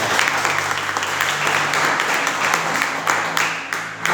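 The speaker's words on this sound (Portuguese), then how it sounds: "Pode aplaudir Jesus bem forte" Church congregation applauding strongly during a Portuguese-language worship service, a dense, steady wash of clapping that fills the room from start to finish, with faint voices mixed in underneath.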